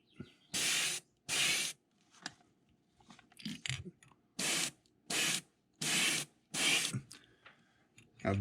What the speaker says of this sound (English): we're going to angle spray that along those scales at the bottom